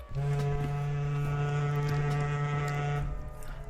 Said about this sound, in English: So this is what the horn sounds like.